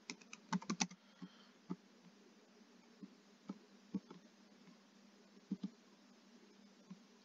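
Clicky computer keyboard typing comes in scattered bursts and single keystrokes, quiet and close, with gaps between short runs of keys over a faint low hum.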